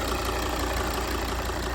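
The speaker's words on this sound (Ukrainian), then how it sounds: "Саме основне мотор працює чітко, рівненько, ніяких посторонніх звуків немає" A Volvo V60's five-cylinder engine idles close by with an even, steady rumble and no breaks or surges, and no one speaks over it.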